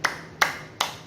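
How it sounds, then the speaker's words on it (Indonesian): Three sharp hand claps at an online children's worship class, evenly spaced about a third of a second apart, crisp and close with nothing else around them. "Tepuk tangan."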